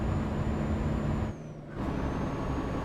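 Air brake on a heavy truck in Euro Truck Simulator 2, with ProMods installed, giving a short hiss and release as the steady, loud engine drone dips briefly then resumes, no voices.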